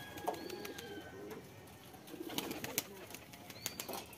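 Domestic pigeons in a loft coo in low, soft, repeated calls, with light rustling and occasional wing flutters close by.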